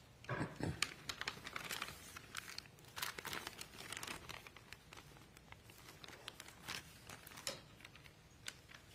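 Scissors cut open a sealed plastic evidence bag in a courtroom, making faint, close crinkling and rustling with small irregular snips and handling noises throughout.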